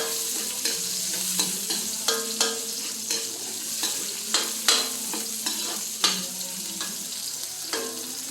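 Onion and garlic sauté in a hot pan for a braised bottle gourd dish, a steady close sizzle broken by repeated scraping stir strokes at an uneven rhythm, with no talking.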